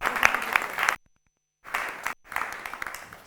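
Studio guests clapping on a television talk show, a sparse group of hands with a few sharp individual claps, broken by abrupt silent gaps where the sound cuts out, then resuming briefly.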